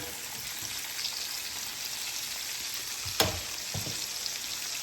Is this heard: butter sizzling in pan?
yes